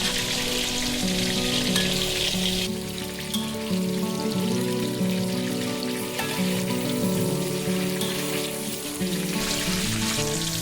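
Pork chunks frying in hot oil, a dense continuous sizzle and crackle with steady popping throughout, close and loud with no talking.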